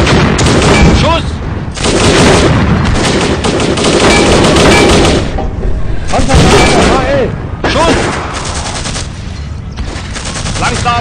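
Gunfire from a Hanomag vehicle in the tank game Steel Fury, loud repeated bursts of shots and booms in several heavy blocks, with shouted commands over the firing.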